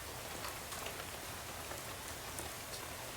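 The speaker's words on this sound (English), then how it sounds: "soon you're dozing off to the sound of rain splattering on the window beside you" Rain splattering on a bus window in the video game Shadows Over Loathing, a dense steady hiss of drops with small pattering ticks, even and continuous.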